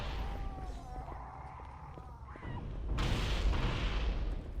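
Grenade explosions in the video game Halo: Combat Evolved, heard as a few muffled booms and a broadband blast surge that lingers as rumbling noise, with no talk over it.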